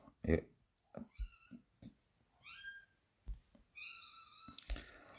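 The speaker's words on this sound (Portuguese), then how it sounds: "a minha gata está ali fora toda doida a refilar para eu não a deixar entrar" A cat outside, wanting to come in, gives several short, faint meows in a row, mixed with soft clicks and scattered speech.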